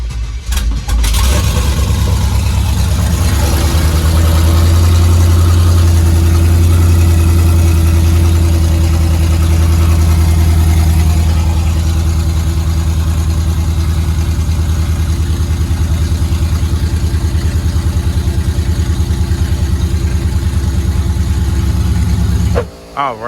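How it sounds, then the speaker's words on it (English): A Camaro SS V8 engine cold-starts and settles into a loud, close, steady idle with a deep low rumble that continues for over twenty seconds, then cuts off abruptly at the end. "Let's get that cold start"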